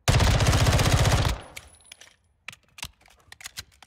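A Glock 18 pistol fitted with a 50-round drum magazine fires a fast, dense full-auto burst in a video game, about a second long, followed by scattered clinks and clicks.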